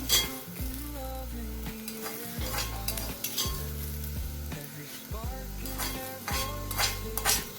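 Grated coconut for thuvaiyal is dry-roasted and stirred in a pan, giving soft frying sizzle and scraping strokes under loud rhythmic background music, with no talk.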